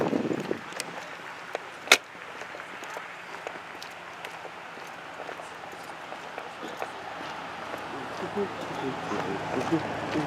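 Busy street traffic rumbles and hisses behind a roadside scene, with passing vehicles swelling toward the end, a sharp bang early on, and voices talking over it.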